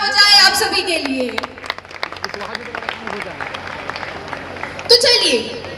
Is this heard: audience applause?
yes